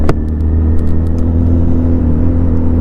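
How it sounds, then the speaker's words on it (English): A Honda Hornet 1000SP motorcycle rides through town traffic in road mode, a loud, steady low engine rumble and whir close by, with brief ticks and rattles near the start. "So here we are in town going through some traffic, and the bike, like all Hondas, it's beautifully balanced and very easy to ride in the urban environment."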